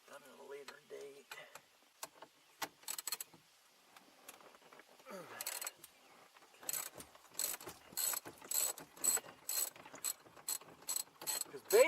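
A ratchet wrench turning a 13 mm bolt on the steering column of a 1995 Ford Mustang, sparse clicks building into rapid, close bursts of ratcheting, with someone talking intermittently.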